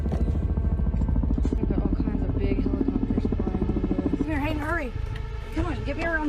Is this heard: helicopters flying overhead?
yes